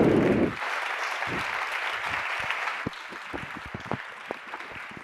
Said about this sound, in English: Big hand of applause for Chris.